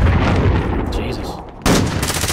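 Video game gunfire, a burst of loud close rapid shots that drops off briefly and then resumes sharply, with voices partly underneath.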